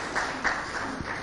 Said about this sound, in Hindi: मैं सभी लोगों से कहूंगा कि एक बार तालियां बजाकर उनका स्वागत करें।